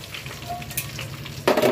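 Cauliflower and potatoes fry with spices in a pan, a steady close sizzle running throughout, growing louder and brighter near the end as the pieces are stirred or shifted.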